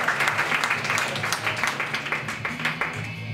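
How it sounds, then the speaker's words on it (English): Comedy club audience applauds in a steady, moderately loud patter of many hands, continuous for a few seconds with faint crowd murmur. "Judging by round of applause,"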